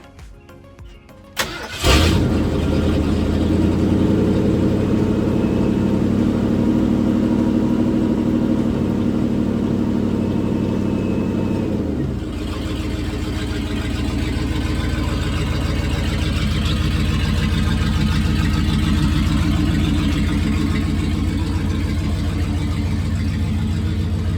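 A 1979 Ford Bronco starts up with a brief crank and catch, then idles loudly and steadily up close, its tone shifting around twelve seconds as it eases forward into a garage, with no talk.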